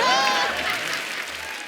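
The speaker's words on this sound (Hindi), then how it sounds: "नोरा के लिए जोरदार तालियां ले जाइए" Studio audience on the Kapil Sharma Show breaking into dense, steady applause for Nora, with a bright tonal musical sting sliding over the start and the clapping gradually fading.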